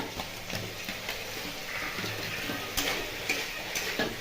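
Potatoes go into a pan of frying spice masala, giving a low sizzle with scattered ticks and clatters of stirring at close range.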